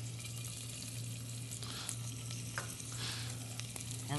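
Garlic and white onion fry in hot oil in a pan, a soft continuous sizzle with a steady low hum underneath and occasional faint stirring clicks, fairly quiet throughout.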